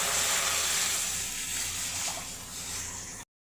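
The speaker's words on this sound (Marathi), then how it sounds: "कढईमध्ये पाणी घालायचं." Water being poured into a kadai sitting on a gas stove, a close, steady rushing pour that lasts about three seconds before stopping abruptly.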